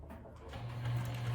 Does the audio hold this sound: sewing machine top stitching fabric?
yes